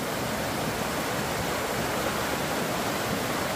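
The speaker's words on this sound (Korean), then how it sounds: "저 위로 계곡 물 쏟아지는 거 보이소." Water from a valley stream pouring down over rocks in autumn woods, a steady dense roar of rushing water that fills the scene without a break.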